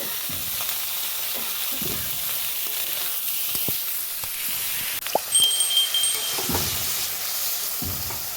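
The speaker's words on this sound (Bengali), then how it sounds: "আমার চিচিঙ্গাগুলো ভালো করে মশলার সঙ্গে ভাজা হয়ে গেছে" Ridge gourd sizzles and crackles steadily with spices in a hot pan, with occasional stirring clatter and a brief scrape midway.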